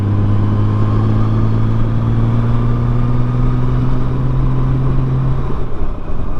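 Honda Goldwing motorcycle engine pulls hard through an overtake on a touring road, a steady loud drone with a rising pitch that holds for about five seconds and then eases off.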